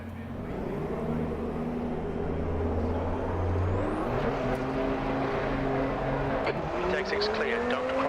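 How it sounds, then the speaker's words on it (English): A GT2 race car engine in the Assetto Corsa Competizione racing game, droning loudly and climbing in pitch through the gears with brief tire noise, while a voice speaks over it. "It has a decent sounding engine."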